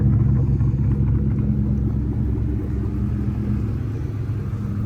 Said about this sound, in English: typically with the cold start, it idles high. As it starts getting up the temperature, it falls down on RPM, and the note comes down a little bit